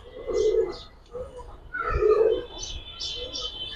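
Giribaz high flyer pigeons coo nearby in soft, low, repeated throaty calls, mixed with faint chirps and a voice in the background.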